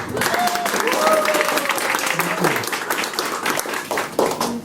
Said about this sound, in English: Clap a little louder.